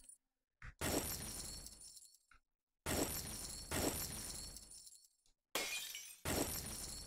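Glass shattering alert in the video game Offworld Trading Company, sharp bright crashes repeated in three bursts, each cutting off abruptly between silent gaps.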